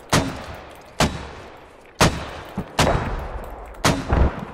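Mortar rounds from a Squad game mortar team fire in a steady cadence, five sharp booming reports about a second apart, each with a rumbling tail, loud and fairly close with no talking.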